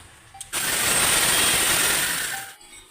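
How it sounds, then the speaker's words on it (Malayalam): A kitchen mixie grinding fried batter pieces for sweet laddu, a loud steady motor whir that starts abruptly after a brief pause, runs continuously, then cuts off near the end. "ഇത് നമ്മൾ മിക്സിയിൽ ഒന്ന് ചെറുതായിട്ടൊന്ന് പൊടിച്ചെടുക്കുക"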